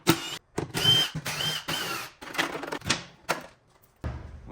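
Exhaust shield nuts come off a 2015-2020 Dodge Charger Hellcat with a 10 mm socket on a 6-inch extension: close, sharp rattling bursts of a ratchet or power tool, separated by short pauses.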